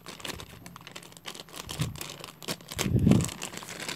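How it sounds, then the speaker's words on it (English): The packaging around a Bandai Mothra Larva figure is opened, with quiet crinkles, tearing and rustling plastic coming in short bursts and getting louder toward the end. "Now I'm going to quickly open the packaging."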